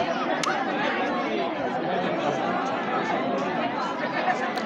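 Dense, steady chatter of a large crowd queued outdoors for COVID vaccination, many overlapping voices forming a continuous murmur with no single speaker standing out.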